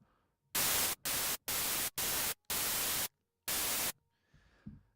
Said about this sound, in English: that is your basic white noise sound to be added in for a fill-in effect, for any drop or build-up